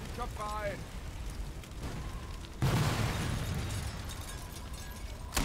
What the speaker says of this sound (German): das will ich auch explodieren lassen